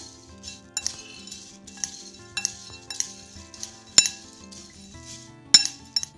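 A spoon clinks and scrapes against a bowl while spices are mixed into crispy potato lachha namkeen, irregular metallic taps and rattles at close range, with two sharper clanks standing out.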